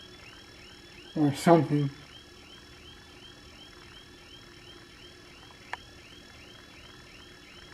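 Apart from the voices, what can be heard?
car alarm going off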